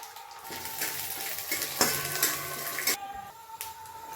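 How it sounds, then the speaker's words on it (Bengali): Peanuts fry in a little oil in a pan for bread pakora: a moderate sizzle with several sharp clinks and stirring scrapes from the pan partway through. "বাদাম দুটি ভেজে নিই প্রথমে।"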